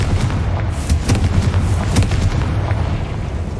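A Confringo blasting spell in the Hogwarts Legacy video game sets off a rapid series of sharp booming bursts over a low, rumbling background.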